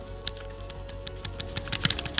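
Flydigi Vader 5 Pro gamepad triggers pressed in quick succession, giving a run of light, soft clicks, close and fairly quiet, with no talking.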